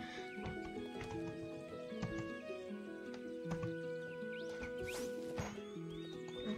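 Horses out on a bareback trail ride neigh and whinny repeatedly with clopping hooves, distant to mid-range and fairly faint against a busy outdoor background.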